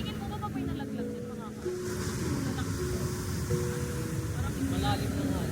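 Ocean surf rolls in steadily at a beach in La Union, a broad continuous wash of breaking waves with a low engine-like drone and faint tonal hum underneath.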